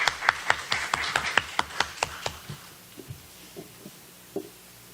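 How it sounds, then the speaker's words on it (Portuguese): Applause at a round-table event on science and technology funding, heard as a run of sharp, regular claps that soon thin out and fade into a few scattered, quieter ones. "Por favor, uma salva de palmas."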